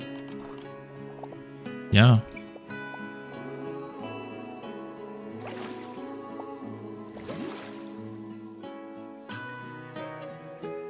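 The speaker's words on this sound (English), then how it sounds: "now we can just go ahead and fill that with water right now too" Water pouring in to fill an animal habitat in the zoo-building game Planet Zoo, a soft whooshing swell under steady background music, with a sharp burst early on and a man's brief spoken remark.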